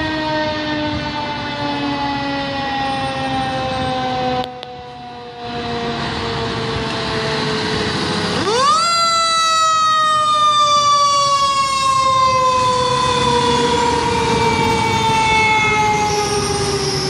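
A fire truck siren blares while the truck is responding: loud and close, its wailing tone holds steady, then sweeps sharply up and slowly falls again as the truck passes, with no talking.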